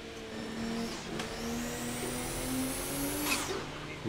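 Car braking in a racing video game, heard as steady engine drone with a rising whine and a sharp hiss of tyre squeal, continuous and fairly loud with no talk.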